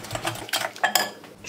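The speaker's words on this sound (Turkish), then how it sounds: "Bir adet yumurtanın sarısı. İyice bir çırpıyorum." A spoon whisking egg yolk and flour in a bowl for spinach yogurt soup gives quick, irregular clinks and taps against the bowl, close by and fairly quiet.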